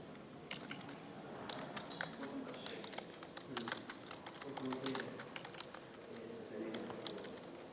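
Computer keyboard typing during a Word document lesson, a steady run of light, quick clicks under an ongoing voice throughout.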